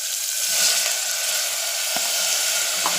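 Chopped onions frying among popped mustard seeds and cumin in a hot pan, a steady bright sizzle with faint crackles and small pops, close and continuous with no talking.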